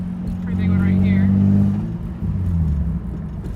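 Car front end thumping and rattling while driving over road bumps, including one big bump, under steady engine and road rumble, with someone talking over it.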